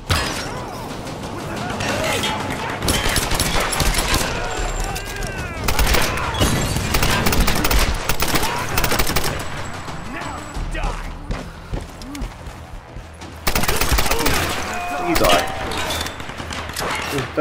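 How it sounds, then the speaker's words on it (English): Bursts of gunfire in the Tomb Raider video game recur through the stretch, mixed with mechanical clanks, shattering and creaking game effects, while someone talks over much of it. "I am shooting at ya, bastards."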